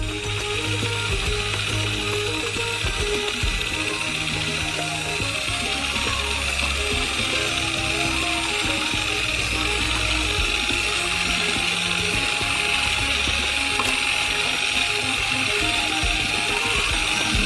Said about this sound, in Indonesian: tuangkan campuran secara bertahap, sambil mencampurnya dengan mixer